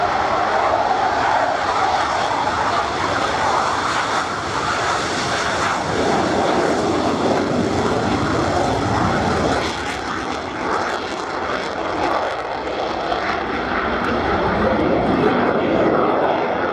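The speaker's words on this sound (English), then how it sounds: "But here he is now on roll in his favourite, his own personal aircraft, Misdemeanor and Jonathan Whaley." A Royal Navy pilot's personal propeller aircraft, Misdemeanor, roars loudly and steadily through its takeoff roll at the Yeovilton Air Day, its engine drone filling the clip with no talk.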